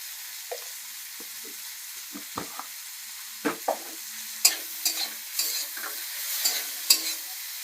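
Chopped tomatoes and chili powder fry in a pan with a steady soft sizzle, broken by occasional spoon scrapes and stirring clatter growing busier toward the end; no voices.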